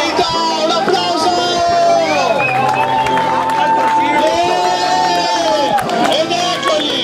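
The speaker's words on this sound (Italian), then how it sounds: "finita, un applauso!" Crowd cheering and applauding at the finish of a 6-hour running race, mixed with loud, close voices shouting and an announcer-style speaker talking over it throughout, with a continuous lively background of cheers.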